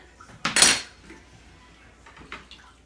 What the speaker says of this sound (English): we're going to get this on the saucepan, mix it together